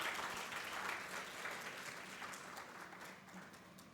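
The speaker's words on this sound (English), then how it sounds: "So great round of applause to all your faculties." A convocation audience at a mental health school claps in a steady round of applause heard from some distance, fairly faint and continuous, gradually thinning toward the end.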